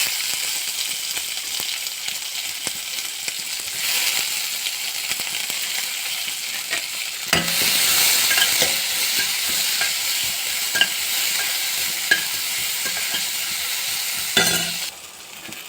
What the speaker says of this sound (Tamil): பச்சை மிளகா போட்டு வதக்கிக்கோங்க.